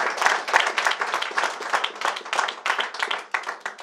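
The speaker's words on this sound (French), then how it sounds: "Vous pouvez les applaudir" An audience claps at the official draw of a European schools badminton championship, brisk uneven clapping in bursts from a modest crowd in a hall.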